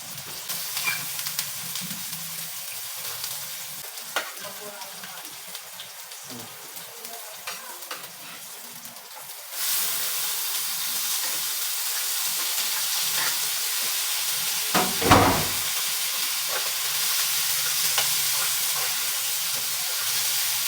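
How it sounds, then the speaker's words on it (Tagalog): Onion, ginger and garlic sauté in oil for Filipino octopus adobo, a gentle frying hiss that jumps to a louder, denser sizzle partway through, with a brief clatter of stirring near the middle and no talking. "mag-isa na tayo ng sibuyas. At luya at bawang"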